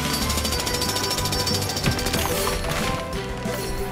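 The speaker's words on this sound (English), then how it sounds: "Use Rubble's drill to clear the rock away." A drill breaking rock in the Paw Patrol: Mighty Pups Save Adventure Bay video game: loud, continuous rapid hammering and grinding that crumbles toward the end, dense and close with no speech.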